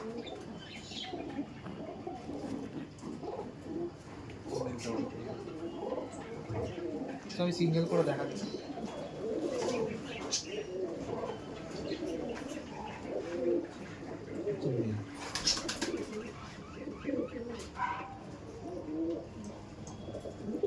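Giribaj pigeons, a male and female pair, coo softly and repeatedly at close range while someone talks over them.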